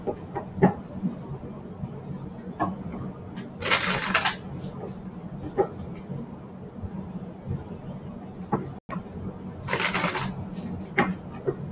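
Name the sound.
shuffling and pulling oracle cards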